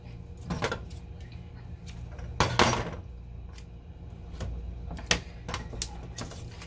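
Heat tape is handled while wrapping a pen for sublimation, giving sparse close crinkling and sharp tearing bursts spread over several seconds against a quiet room.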